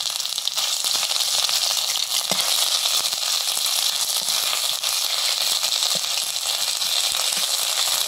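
Whole cumin, dried chili and bay leaves frying in hot oil for a fish curry, a dense, steady crackling sizzle that runs close and loud throughout without talk.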